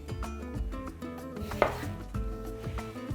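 A knife trims the ends off two large eggplants on a cutting board, giving several crisp, close chopping thuds over soft background music.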